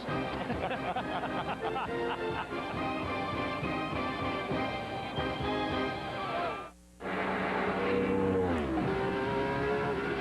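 Cars lap the Cooper Tires test track with loud engine roar and revving that shifts pitch as they pass, then a brief dip before another car accelerates hard close by.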